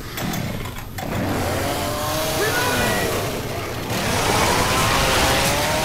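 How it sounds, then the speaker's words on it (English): A chainsaw snarling nonstop in a modded Left 4 Dead, its motor droning loud and close throughout with pitch swells as it revs, amid busy game noise. "I got a chainsaw. I'm just running with a chainsaw."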